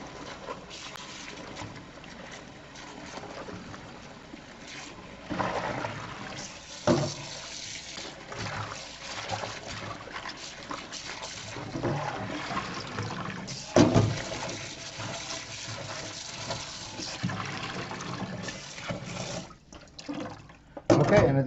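Running water from a faucet rinses soaped leek leaves clean, a steady broadband wash with splashing surges and bursts of louder flow, occasional clatter, continuing for about twenty seconds.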